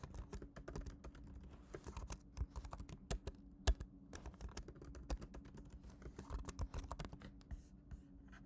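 Password being typed on a computer keyboard, a quick, uneven run of close, crisp key clicks with brief pauses, alone with no talking.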